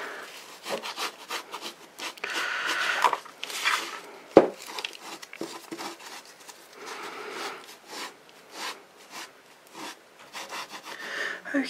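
A small sponge rubs foil and paint onto the surface of a mixed media vintage car clock, giving a steady run of soft scrubbing strokes, close and fairly quiet, with no talk.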